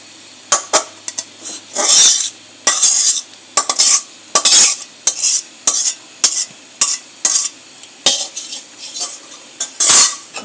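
Utensil stirring vegetables into pasta in a pan: a steady series of scraping, clinking strokes against the pan, about a dozen close, loud bursts over a faint sizzle, with no talk.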